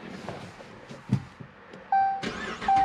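A 2015 Dodge Challenger Hemi being started: quiet clicks and a brief crank, then a warning chime sounding twice as the engine catches and settles into a steady idle close by.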